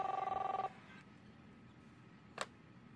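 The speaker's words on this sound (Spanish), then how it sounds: "Teléfono." A telephone rings in the Captain Spirit video game, a short, faint, buzzy electronic ring pulse under a second long, followed by near silence and a small click.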